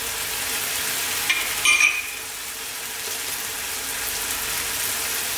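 Oregano, paprika and cumin powder go into a hot pan of ground chicken chili, a steady soft sizzle with a brief scrape and clink of stirring near the start.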